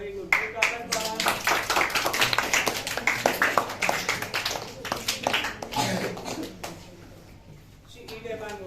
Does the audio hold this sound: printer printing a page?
no